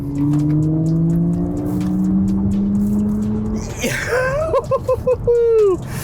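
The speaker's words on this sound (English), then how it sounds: "on top of that, you also get this engine sound. So when you put your foot down," Smart #1 Brabus electric car plays an artificial engine sound under acceleration: a loud, smooth synthetic drone climbing steadily in pitch for several seconds, then broken warbling tones and a brief voice-like passage.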